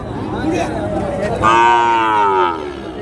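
A cow moos loudly and close by at a cattle market, a long drawn-out call rising over a murmur of background voices and market bustle.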